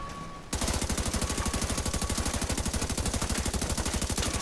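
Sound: gunfire in video game Razorback

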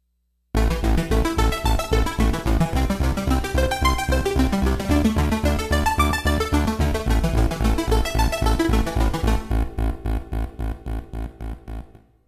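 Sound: Roland SH-201 split keyboard bass and arpeggiator patch together

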